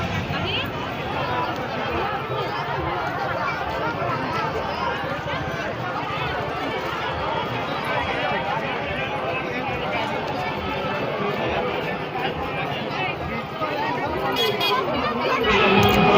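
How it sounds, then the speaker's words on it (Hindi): A dense crowd at Kapileshwar temple in Madhubani during Shivratri, steady hubbub of many voices and footsteps close around, with someone talking over the babble throughout. "देखिए कितना भीड़ लगा हुआ है।"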